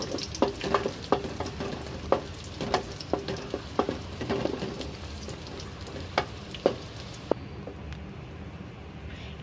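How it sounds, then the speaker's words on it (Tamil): Cashews, raisins and almonds fry in a pan, with a continuous sizzle and a string of sharp taps and scrapes as they are stirred, close by and without talk. "முந்திரி, திராட்சை, பாதாம் எல்லாத்தையும் நம்ம போட்டு நல்லா வதக்கிக்கலாம்"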